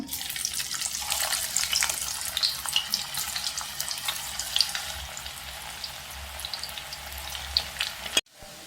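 Pakoda dough frying in hot oil in a kadai, a dense, loud, continuous bubbling sizzle with crackling pops, close by, cutting off abruptly near the end, no talking.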